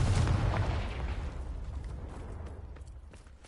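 A Confringo fire spell explodes in Hogwarts Legacy: a heavy booming blast at the start that rumbles and crackles, then fades away over a few seconds.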